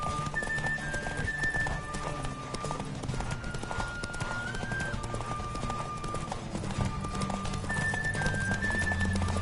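Rapid clip-clop of a galloping horse in The Witcher 3 video game on PS4, steady and continuous, with a brief whinny and music-like tones layered over it.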